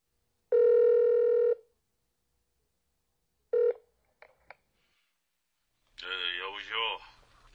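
A telephone is dialed, with a long tone followed by a short tone and a couple of faint clicks, and then a voice starts speaking close up.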